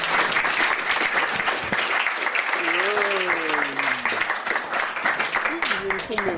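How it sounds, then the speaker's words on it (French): Enthusiastic audience applause welcoming a comedian onto a café stage, steady and loud throughout, with voices and a sung or hummed melodic line rising over the clapping partway through. "on l'applaudit très fort"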